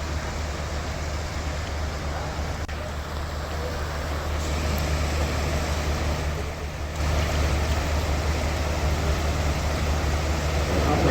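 Floodwaters rush through swollen rivers after a night of heavy rain and cloudbursts in Uttarakhand, a steady broadband roar with a low rumble that holds continuously and grows slightly louder midway.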